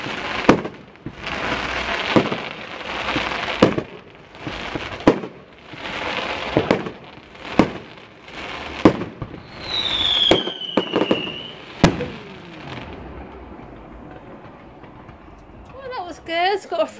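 A school fireworks display goes off with a series of sharp, loud bangs at irregular intervals and a whistling rocket, while people talk nearby.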